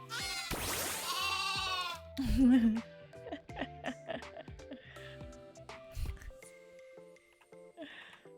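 Sheep in the Minecraft Cobblemon game bleat in a few short, wavering calls, loud and close, mixed with other game sounds and brief vocal noises.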